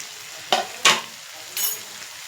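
Green chillies hit a pan of frying chicken for a restaurant-style chicken fry, giving a few short bursts of hissing sizzle with stirring in between, close and clear with no voices.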